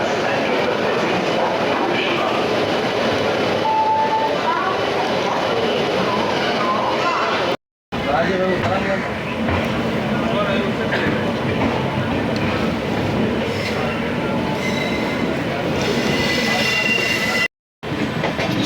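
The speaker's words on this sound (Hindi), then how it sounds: "डिपार्चर ले चुकी है गाड़ी नई दिल्ली रेलवे स्टेशन से।" Amrit Bharat Express train pulling out of New Delhi railway station, heard from a general coach: a loud, steady rumble of wheels and carriages with clattering and faint squeals, running continuously apart from two brief cuts.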